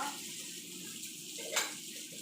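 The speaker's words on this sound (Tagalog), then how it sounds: "At etong monkey mushroom guys, kailangan natin ibabad muna to." Water runs steadily from a tap into a bowl to soak monkey mushrooms, a soft continuous flow with a brief splashy surge near the end.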